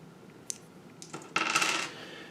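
Game dice from a wargame box clatter onto a hard surface in a short burst of bright rattling and skittering, close and fairly loud, with no talk.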